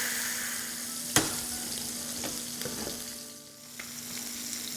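Food frying in a pan over a medium-high flame, a steady close sizzle with one sharp clatter of a utensil early on and a few softer stirring knocks.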